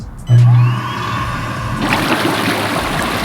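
An inflatable hot tub's motor kicks on with a brief hum, then a loud, steady rush of churning bubbles fills the water close by.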